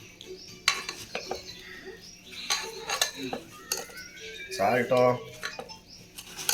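Spoon clinking and scraping against a bowl while ingredients are stirred, giving irregular close metallic taps and scrapes, with a brief voice heard partway through.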